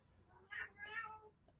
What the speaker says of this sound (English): if you guys hear some noise in the background, my cat is so embarrassing.